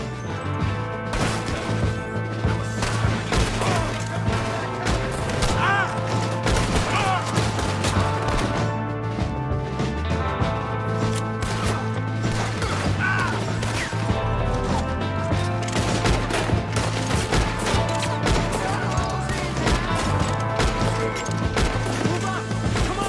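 Gunfire from a shooter perched on a tower in Red Dead Redemption 2, sharp cracks and impacts scattered through a busy battle mix with steady game music underneath.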